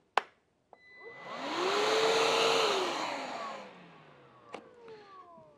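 A Wurth dust extractor vacuum for an M-Cube hammer drill switches on, ramps up to a steady whooshing roar for a few seconds and winds down, framed by sharp clicks of its switch.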